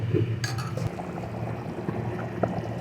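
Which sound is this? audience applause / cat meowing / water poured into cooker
water poured into cooker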